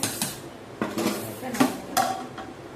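A pot of freshly cooked rice is lifted off the stove, with several sharp metallic clanks and scrapes of lid and pot at an uneven rhythm, close and fairly loud.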